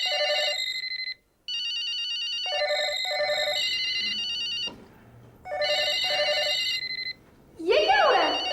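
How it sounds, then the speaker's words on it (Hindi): A telephone rings in repeated bursts of bright, electronic trilling, loud and close, with short gaps between rings and background scene noise. "कोई फोन क्यों नहीं उठा रहा है?"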